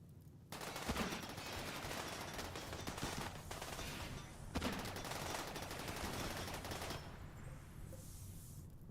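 Rapid bursts of shotgun fire from a modded video game's vampire cult fight, dense and continuous for several seconds, then cutting out into quieter background near the end.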